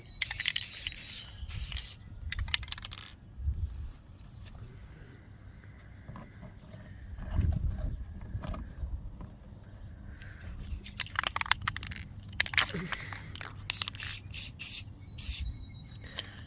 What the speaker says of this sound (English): Okay, again, very, very gentle sprays. I don't want a lot of paint on this.